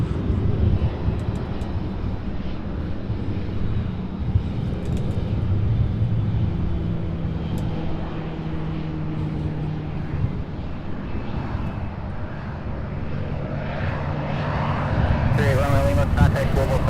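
A Southwest airliner taxis toward the ramp at Louisville SDF airport, its engines holding a steady, moderately loud whine and rumble with humming tones. The noise swells briefly near the end.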